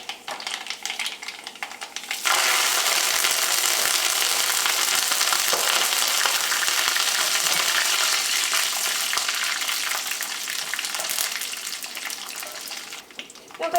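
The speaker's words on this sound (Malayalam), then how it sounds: "ഇനി ഇതിലേക്ക് നമുക്ക് ഉണക്കമുളകും കറിവേപ്പിലയും ചേർക്കാം." Dried red chillies and curry leaves hit hot oil after popped mustard seeds for ginger pickle, setting off a loud, dense, steady sizzle that starts abruptly a couple of seconds in and roars on close by without talk.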